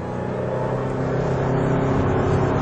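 A Ford Mustang Roush 427R Trak Pak drives on at steady speed, its engine giving a continuous, loud low drone with road and wind noise and no break or pause.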